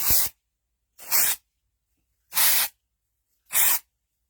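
Four short bursts of dry shampoo aerosol sprayed onto a hair topper, each hiss about a third of a second long and evenly spaced with silent gaps, close and fairly loud.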